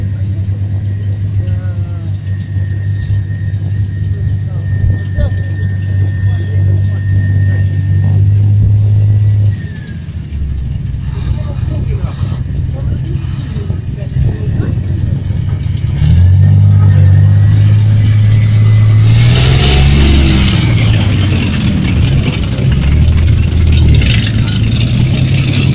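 A car drives and accelerates with a steady, loud engine rumble that dips briefly, then surges into a harder rev with rising pitch and a rattling, roaring burst near the end, while people talk over it.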